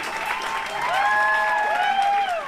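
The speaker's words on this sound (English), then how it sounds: "Sounds like a small crowd there with the clapping," A small crowd clapping along inside a song, a steady wash of handclaps beneath sustained sung vocal lines.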